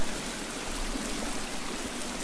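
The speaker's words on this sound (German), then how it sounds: "Das ist so laut. Das Wasser." Loud flowing water rushes in the survival game The Forest, a dense, constant stream-like hiss that goes on without a break.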